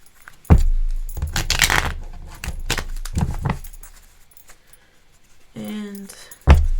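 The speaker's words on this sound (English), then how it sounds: "I'm just going to go ahead and give a quick shuffle here." Tarot cards are shuffled in a few quick, rustling bursts with soft slaps between them, close by and heard on their own.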